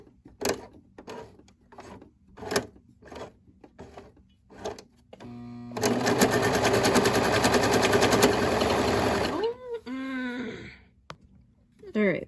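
A Brother 1034D serger runs in a fast, even mechanical whir for about four seconds while sewing cotton flannel, after several slow hand-cranked clunks, with a voice speaking around it.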